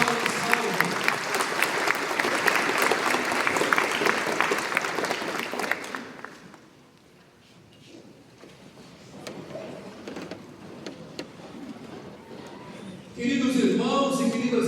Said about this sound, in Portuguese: Uma salva de palmas ao Santo Deus.